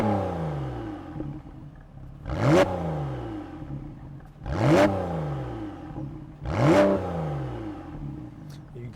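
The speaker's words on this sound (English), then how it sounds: "And now I will turn the sports exhaust on." A Porsche 911 991.2 Carrera S with its sports exhaust valves open revs three times in a row, each blip rising sharply then falling back to a throaty burble, close and loud over a rumbling idle.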